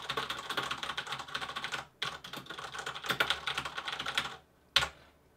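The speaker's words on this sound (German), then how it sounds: "Da, diese Tastatur, diese mechanische Tastatur." Rapid clattering keystrokes on a mechanical keyboard, close and fairly loud, in dense bursts with a brief pause near the middle and a final isolated key press after a short gap.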